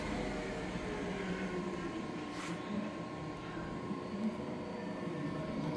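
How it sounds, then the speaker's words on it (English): A Hollymatic 4000 mixer grinder running in mix-only mode hums with a steady, even mechanical drone and a faint tonal whine, constant and moderately close throughout. "this is a Hollymatic 4000 mixer grinder"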